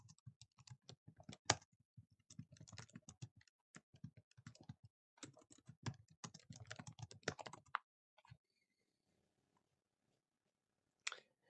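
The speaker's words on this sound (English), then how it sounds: "I was typing." A computer keyboard is typed on in quick, close bursts of crisp clicking keystrokes with short pauses between them, then falls quiet except for a last brief burst of taps.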